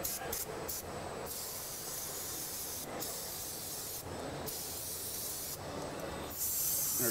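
Several bursts of aerosol spray hissing close up while cleaning a rusted Ford Edge brake rotor and caliper, some short and some longer, separated by brief pauses, with a final sustained spray at the end.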